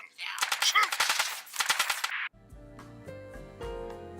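Gunfire in a video game: a loud, rapid burst of close automatic shots with a short gap and a second burst, then the shooting cuts off and quieter game music with tonal chimes takes over.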